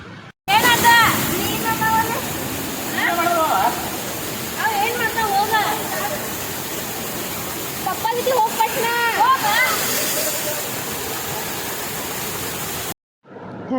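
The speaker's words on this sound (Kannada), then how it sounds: "ಅಂದರೆ ಸಣ್ಣ ವಾಟರ್ ಫಾಲ್ಸ್ ಗತೆ" Steady rushing water from a small waterfall at a temple in Yadgir district, India, fills the background, with people talking over it throughout.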